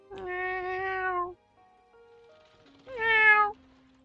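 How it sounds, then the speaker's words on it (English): A cat meows twice in clear, drawn-out, tonal calls, the first long and the second shorter after a brief quiet gap, loud and close. "Oh, I found a cat."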